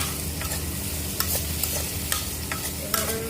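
Pumpkin pieces frying in melted butter give a steady close sizzle, with spatula stirs and scrapes against the pan every second or so.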